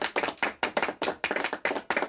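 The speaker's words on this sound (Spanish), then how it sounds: "aplausos, por favor, los aplausos" Small audience clapping in rhythmic bursts, a handful of people applauding at a Spanish-language musical show, close and dry with no voices.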